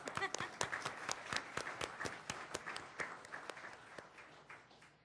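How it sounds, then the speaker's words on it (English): A small audience at a legislature meeting claps, with distinct individual hand claps in a loose, fairly quiet burst that thins out toward the end. "You can clap."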